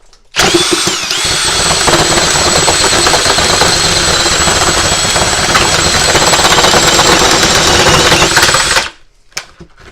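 A Milwaukee M12 FUEL hammer drill runs loud and close for about eight and a half seconds, a sustained high whine with a rapid hammering rattle underneath, starting abruptly and stopping sharply at the end.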